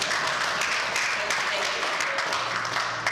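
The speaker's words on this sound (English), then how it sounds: "Give all of themselves a round of applause" Conference audience applause fills the room in a dense, steady wash of clapping that stays loud throughout, with no pauses.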